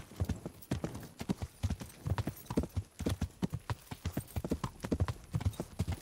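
A horse's hooves clip-clop in steady, rhythmic beats while the horse is ridden in the Kingdom Come Deliverance video game, close and clear, with faint background ambience.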